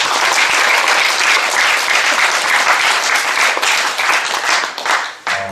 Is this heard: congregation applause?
yes